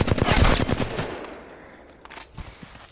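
Flatline assault rifle firing in Apex Legends, a rapid automatic burst of sharp shots up close that tapers into a fading tail, followed by a couple of quieter isolated shots.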